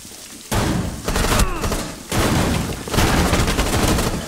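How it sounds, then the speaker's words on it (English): Rainbow Six Siege gunfire hammers a wall in rapid, loud bursts of shots with heavy impacts, broken by brief pauses between volleys. "quit shooting at the wall, you ain't shooting at nothing"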